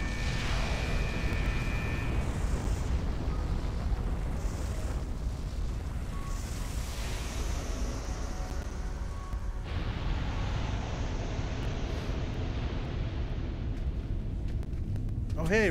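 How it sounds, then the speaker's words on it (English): A rumbling explosion in Fist of the North Star Lost Paradise, with a broad roar that drops to a softer steady rumble midway, ending in a faint whoosh, under game background noise. "Just walking away from the explosion."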